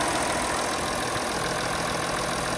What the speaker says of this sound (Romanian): Motorul sună impecabil.